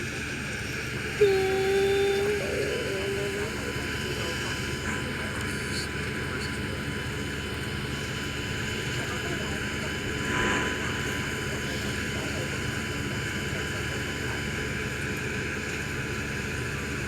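Passenger airplane landing at Magong Airport on Penghu: a steady, faint engine drone that holds evenly throughout, with a brief swell early on and another near the middle.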